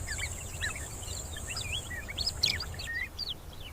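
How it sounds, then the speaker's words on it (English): Many small birds, oxpeckers on a buffalo herd, chirping and twittering in quick, overlapping bursts, moderately close, over a low steady rumble of open-air background noise. "Covered in small birds."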